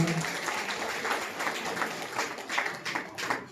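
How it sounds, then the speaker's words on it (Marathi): A crowd at a community gathering honoring a local organization's president claps in a steady, moderately loud burst of applause, heard fairly close. "आपण जोरदार टाळ्या वाजवून त्यांचं अभिनंदन करू"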